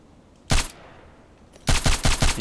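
The DT SRS mk.2 rifle fires in the video game Contract Wars: one loud shot, a short pause, then a quick burst of four or five close, sharp reports in a steady rhythm.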